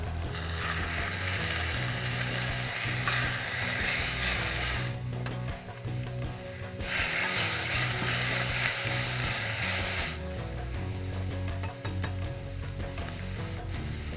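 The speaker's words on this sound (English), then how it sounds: "We're just gonna let our onions cook up for a little bit before we add some other ingredients." Onions and tomatoes cooking in a pan, a steady close sizzle running throughout with clicking, rattling utensil noises over it and a hum underneath, no talking.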